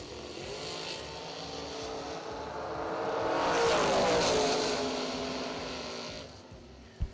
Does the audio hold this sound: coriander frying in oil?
no